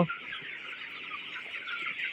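Chickens clucking and chattering in a dense, continuous flock on a poultry farm on a winter morning, moderately close with no talk over them.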